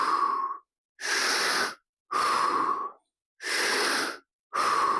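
Slow, deep breaths are taken while holding a squat in a guided anxiety-release exercise: five long, airy breath sounds close to the ear, each lasting under a second and separated by short silences.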